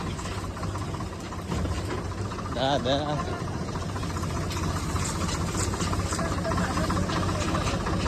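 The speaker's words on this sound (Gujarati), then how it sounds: "આ બાઈક નો બાઈક આવે છે ભાઈ" A motorcycle engine rumbles steadily nearby, a constant low drone running the whole time while people talk loudly over it.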